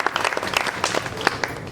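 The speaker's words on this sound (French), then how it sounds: "Merci d'applaudir pour le Centre Guélia une fois de plus." Scattered applause from an audience at a French-language storytelling show, a thinner crowd with a few distinct individual claps standing out, moderately loud and short.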